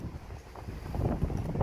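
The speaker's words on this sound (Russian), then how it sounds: "что-то ветер опять поднялся" Gusty wind blowing at an outdoor 50 m high-dive spot, a low, rumbling rush buffeting the microphone, rising slightly toward the end, with no other clear sounds.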